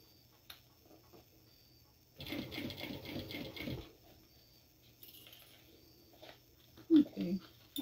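A sewing machine whirs in a steady burst of rapid stitching on a Pokémon-inspired mini backpack, close and fairly loud for under two seconds, framed by quiet handling noises and a brief voice.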